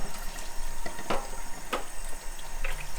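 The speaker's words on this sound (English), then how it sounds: "I'm just going to rinse it a bit, return it to the machine" A Siemens coffee machine's removable brewing unit rinsed under a running kitchen tap, steady close splashing water with a few sharper spatters as the part is moved through the stream.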